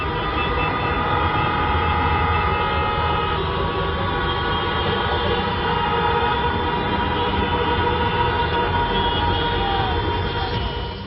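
Vehicle horns blare continuously, honked by protesters at a hijab protest. Many sustained tones overlap into a dense, loud wall of sound under steady traffic roar, with no pause.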